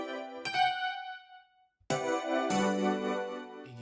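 A synth chord with its 11th raised a semitone in a pluggnb beat rings out, decays into a brief silence, then strikes again in two fuller, brighter hits that sustain, played alone.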